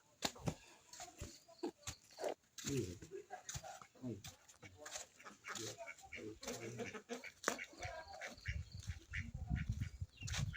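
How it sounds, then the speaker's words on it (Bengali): Several ducks quack at a rural village pond, with repeated nasal calls in irregular bursts close by, mixed with other bird or farm-animal sounds and background noise. "অনেকগুলো হাঁস আমার"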